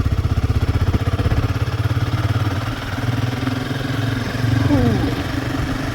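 A Royal Enfield Himalayan 452 motorcycle engine runs with a steady, throbbing pulse close by, swelling slightly as it revs, and no voices over it.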